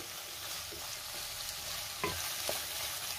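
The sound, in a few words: sautéing bell pepper (capsicum) in a pan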